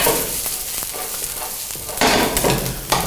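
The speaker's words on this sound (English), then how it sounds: "we're just going to fry the onions until they get a bit of colour" Onions frying in a pan, a bright continuous sizzle broken by stirring scrapes and clatters, loud and close, with a louder burst partway through and no talk.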